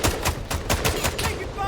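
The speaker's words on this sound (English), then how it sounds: "They're shooting at us." Rapid bursts of gunfire in a multiplayer shooter game, a string of sharp loud shots repeating roughly every quarter second, close and continuous across the whole moment with no talking.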